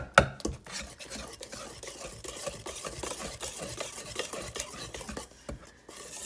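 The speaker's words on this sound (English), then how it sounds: "Got 3 eggs. Just kind of bust them up a little bit." Three eggs beaten by hand into vanilla cake batter in a bowl, a soft continuous stirring and scraping with light utensil clicks against the bowl, close but fairly quiet, with no voices.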